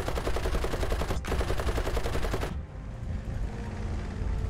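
Hurricane fighter machine guns in War Thunder fire in a long, loud, rapid burst that breaks off for an instant and resumes, then stops, leaving a quieter engine drone.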